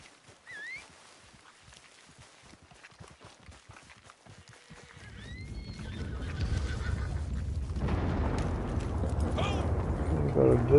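In Red Dead Redemption 2 Online, a horse whinnies briefly near the start, then a low rumbling bed of galloping and wind builds up and grows louder through the rest.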